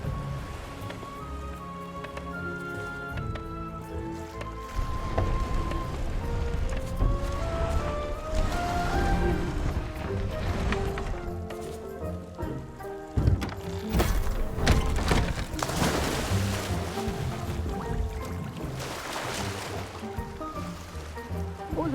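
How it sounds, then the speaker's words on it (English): Water splashing and churning in Sea of Thieves, a steady wash of spray and surf beneath music-like tones, louder bursts around the middle. "What was that loud splashing sound?"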